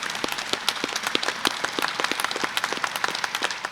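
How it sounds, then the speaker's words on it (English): An audience at a statewide candidates forum breaks into steady, dense applause, many hands clapping at once with a few sharper claps standing out, sustained and fairly loud throughout. "Let's give Jay an appreciation round of applause."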